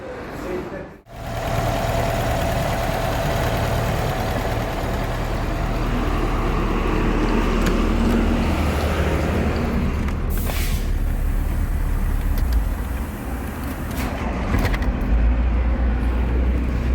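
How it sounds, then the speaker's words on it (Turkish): Tofaş Şahin car engine running steadily at close range, a continuous loud idle with slight revving, people talking nearby over the engine noise. "arabanın çalışması bu şekilde."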